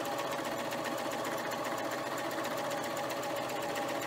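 Babylock Vibrant serger stitching through fabric, a steady fast mechanical whir with a dense rapid needle rhythm, loud and close, running continuously with no talk.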